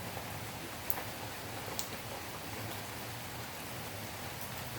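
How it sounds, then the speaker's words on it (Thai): Soft, steady rain hiss with occasional faint ticks of drops, fairly quiet and continuous throughout. "วันนี้ฝนตก"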